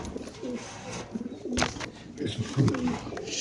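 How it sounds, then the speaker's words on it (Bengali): Racer pigeons coo in low repeated phrases from caged birds at a pigeon market stall, near and fairly soft, with someone talking over the cooing. "খুবই সুন্দর এই কবুতরটা মাশাআল্লাহ, খাঁচা নাম্বার 90"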